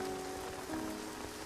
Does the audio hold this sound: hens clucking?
no